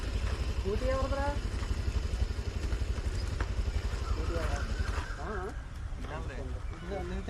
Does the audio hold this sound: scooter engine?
yes